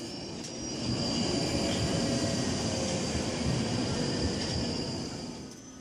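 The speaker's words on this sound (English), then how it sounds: "And here comes the train." Underground metro train pulling into a subway station, heard as a rising rumble that swells into a sustained roar of wheels and motors with faint squeals, then eases slightly near the end.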